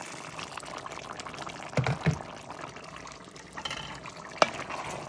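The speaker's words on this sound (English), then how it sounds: "I'm going to add hot water and about a cup." Hot water, about a cup, poured into a pan of roasting pork: a close, splashy liquid pour with bubbling and sizzle, a few sharper splashes, no talking.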